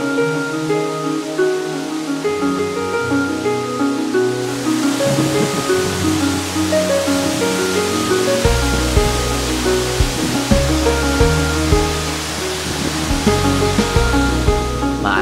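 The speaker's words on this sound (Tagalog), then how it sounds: "Pagdating sa Mantayupan Falls, siguro mananahimik ka na lang at sa pagmamasid sa kagandahan" Mantayupan Falls in Barili, a waterfall about 98 meters tall, roars as a steady, loud wash of rushing water that swells after the first few seconds, heard beneath music.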